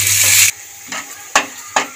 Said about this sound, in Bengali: একটু নুন দিয়ে ভেজে নেব